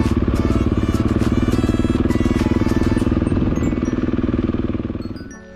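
A motorcycle ridden along the wild north-west coast of Sardinia toward Cala Rossa gives a loud, close, steady engine chug with a rapid pulsing rhythm, then winds down and fades at the end.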